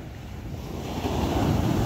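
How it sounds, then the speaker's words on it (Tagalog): Large sea waves roll and break onto a shore where people are swimming and boats sit nearby, a steady broadband surf roar that builds slightly toward the end, with some wind buffeting the microphone and no talking. "Ang malalaki ng alon naman no?"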